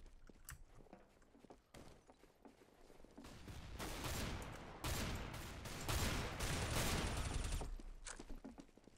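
Rapid gunfire from the video game Counter-Strike: Global Offensive comes in dense, sustained bursts that swell through the middle and then break into scattered shots, fairly loud, with no talking over it.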